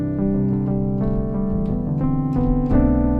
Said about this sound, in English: It's kind of like a synth and lead sound.